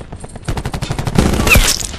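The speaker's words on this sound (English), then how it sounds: "I didn't know this fucking gun was a 3-round burst, bro." Rapid bursts of gunfire from a three-round burst rifle in Call of Duty Black Ops 4 Blackout battle royale, sharp close cracks in quick clusters that grow louder over two seconds.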